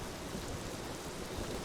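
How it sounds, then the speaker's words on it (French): Heavy rain pours steadily in the video game Rise of the Tomb Raider, a dense, unbroken wash of downpour that fills the whole stretch at even loudness, with no voices heard. "Ah mais il pleut de fou là!"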